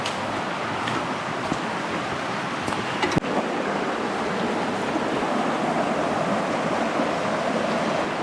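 A river and its feeder creeks in the Smoky Mountains rush and babble in a steady wash of flowing water, moderately loud and continuous, with one brief click partway through and no talk.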